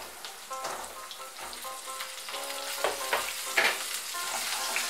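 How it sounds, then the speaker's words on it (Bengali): Potatoes and pointed gourd frying in a pan, a crackling sizzle with frequent clinks and scrapes of a spatula stirring, building slightly louder toward the end; no voices. "আলুটা ভাজা হয়ে গিয়েছে, এর মধ্যে আমি পটলগুলো দিয়ে দেব।"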